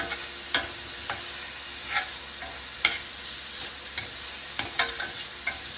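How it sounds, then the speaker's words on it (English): Mixed vegetables stir-fry in a pan for a chicken and cashew dish, a continuous quiet sizzle punctuated by regular sharp clicks of a spatula or spoon against the pan, close and without voices. "I've mixed up our veggies. Cook them until they're crisp tender."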